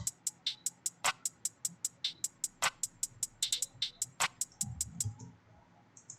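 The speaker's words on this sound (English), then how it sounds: "So that with the hi-hat sounds like this." Crisp hi-hat ticks run in a steady fast pattern with a heavier clap carrying a short chorus-style doubling landing on a few beats, part of a rap beat remake; a low thump creeps in near the end.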